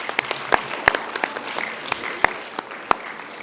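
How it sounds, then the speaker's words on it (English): Scattered, uneven claps from an audience at a primary school mental maths competition prize presentation, a thin sparse round of separate hand claps with no voices. "Just give them another round of applause."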